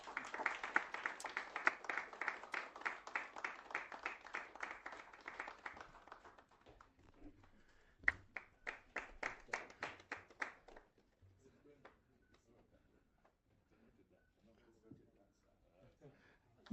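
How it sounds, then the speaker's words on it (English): An audience claps at a ribbon-cutting during a coffee table book launch in Kenya. A burst of applause dies away, then a second shorter round follows, with a voice faintly present at times. "Another round of applause, please."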